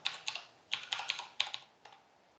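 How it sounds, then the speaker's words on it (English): Keys clatter on a computer keyboard in short bursts of quick, close clicks, several separate clusters of typing with brief pauses between them. "all you need to do is just to type, just type pip install"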